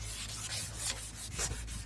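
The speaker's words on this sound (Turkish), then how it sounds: "sarı su akacak şekilde yanmış yüzey temizlenene kadar zımparalamamız gerekiyor" A yellowed, sun-damaged car headlight lens is wet-sanded with water, giving a steady, close abrasive rubbing with rhythmic back-and-forth swells and no voices.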